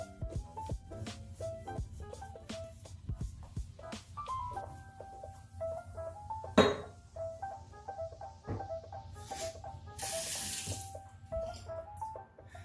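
A bathroom tap runs steadily into a sink while a man wets his face during a wet shave, with water splashing and hands slapping under a soft musical tune; a louder splash gushes near the end.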